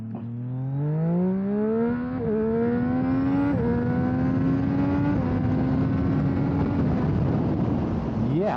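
A 2024 Triumph Street Triple motorcycle accelerating hard down a drag strip, the engine roaring loud and close as it climbs steeply through several gear shifts, each marked by a brief dip before the pitch rises again.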